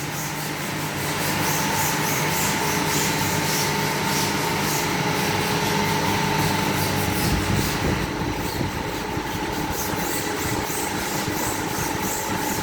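Motor-driven carpet washing machine with a lined brake in its second spin cycle, a steady, loud mechanical whir and rumble with constant vibration, no voices.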